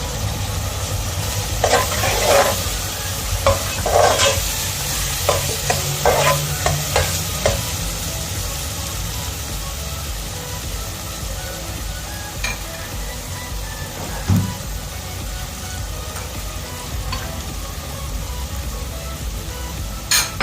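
Potatoes frying and stirred into a chickpea chicken curry spiced with garam masala, a constant close sizzle with repeated scraping and clattering stirs in the first half, then a calmer bubbling fry with occasional knocks.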